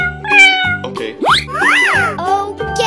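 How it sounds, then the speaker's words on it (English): A cat meows several times in quick succession, loud and close, with rising and falling cries and a few plopping sounds mixed in, and no speech. "Cat."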